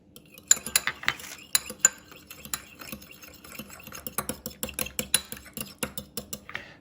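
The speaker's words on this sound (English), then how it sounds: "we're taking that one egg that we had left over, and we're going to mix it up here real well, and then add the milk" A fork beats an egg with milk in a bowl for a scone glaze, making rapid irregular clinking and tapping against the dish that quicken into a steady whisking rhythm up close.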